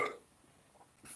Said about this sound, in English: Makes you burp, does the job.